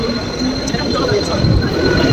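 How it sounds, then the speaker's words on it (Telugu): Inside a crowded Mumbai local train, a steady rumbling rattle of the moving coach fills a brief stretch, with a faint tonal whine above and muffled voices. "లోకల్ ట్రైన్స్ ఫుల్ రష్ ఉంది"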